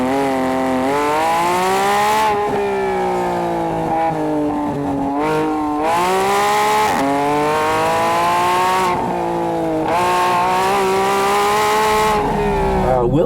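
Porsche 911 GT3 lapping a race track, its high-revving engine climbing and dropping through repeated upshifts and braking, loud and close in-car, with tire squeal in the corners.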